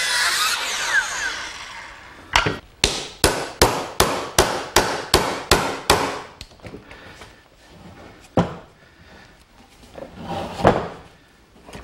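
A chisel chops out the waste from a sawn notch in a wooden gazebo post: a quick, even run of about a dozen sharp, close knocks, followed by scattered slower strikes and scraping.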